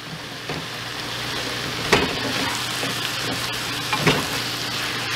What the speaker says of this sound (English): We'll go ahead and give it a quick stir. Get our butter melted out.